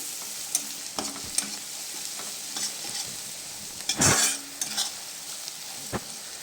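Garlic sizzles in hot oil as a tempering for dal, a steady close frying hiss with light utensil taps and one louder burst of spitting partway through, with no speech.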